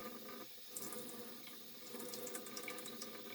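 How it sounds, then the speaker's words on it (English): Tap water runs steadily while a wet palette sponge is soaked and squeezed to flush out residual paint, giving a continuous close splashing stream with small dripping accents. "I soak and squeeze the sponge a couple of times to flush out residual paint"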